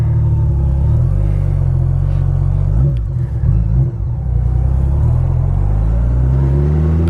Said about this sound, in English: the Honda Goldwing, 5-speed, 1800cc, super smooth.